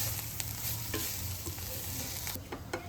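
Mushroom thoran with coconut, ground fennel and pepper powder stirred in a pan, giving a steady soft sizzle with scraping spoon strokes and a few sharper clicks near the end, close and without talk.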